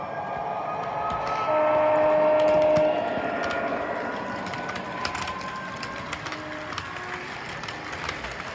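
A small motor of an OO gauge Class 66 model locomotive whirs and rattles steadily with clicking track noise, a brief tonal whine rising in the middle, moderately quiet.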